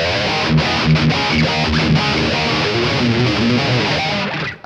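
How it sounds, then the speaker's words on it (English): An electric guitar plays through a Yamaha THR10 amp set with the mids scooped, giving a loud, distorted, hollow tone of strummed chords and picked notes that cut off at the end, with no talking. "if I scoop out the mid, it sounds like this"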